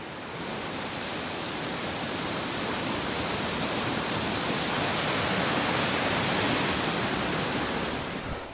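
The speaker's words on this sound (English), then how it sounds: "But some waterfalls here." Waterfalls along a hiking trail in the White Mountains pour as a steady, dense broadband rush that stays loud and even from start to finish, with no voices.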